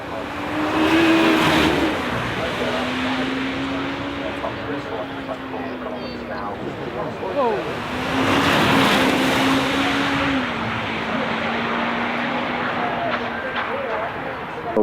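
The Czinger 21C, a 1233 hp road-legal hypercar, climbs a hill course, its engine note rising and falling as it accelerates and shifts, heard steadily at moderate distance with a voice talking over it.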